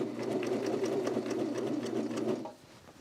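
A straight stitch sewing machine runs steadily while sewing the pocket and skirt of a dress, a close, even mechanical whir with a rapid regular ticking that stops abruptly near the end.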